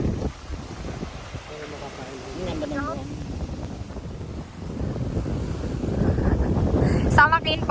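Wind buffets the microphone on an open boat during island hopping around Sulu, a steady rushing roar with low rumbling gusts that swell louder toward the end, with faint voices and brief chirpy sounds over it.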